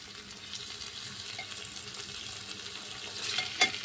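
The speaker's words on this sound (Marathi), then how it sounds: "हे बघा आता आपली मस्त छान सगळी फोडणी झालेली आहे।" Spiced phodni with tomato sizzling and frying in a pan for chana dal tikhat varan, a steady close crackle throughout with a brief louder burst near the end.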